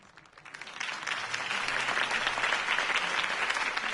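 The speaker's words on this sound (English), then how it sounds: "could have heard that applause" Video game crowd applause following a campaign speech swells up from quiet and holds steady, a dense wash of clapping hands with no speech over it.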